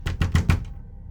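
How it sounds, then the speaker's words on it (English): Four quick, solid knocks on an apartment door, evenly spaced and close, then silence. "I heard an unexpected knock on my door"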